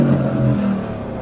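A 2021 Porsche Cayenne GTS sport SUV revs its engine through a centrally laid-out exhaust, giving a steady, loud, close throaty drone that eases slightly toward the end.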